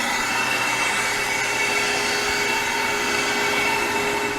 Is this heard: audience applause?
no